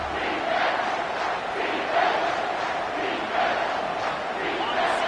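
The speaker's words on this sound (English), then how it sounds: "this crowd will blow out a vocal cord to help this defense" A college football stadium crowd roars on third down with the defense on the field in the red zone, a loud, sustained wash of cheering and yelling that swells in waves throughout.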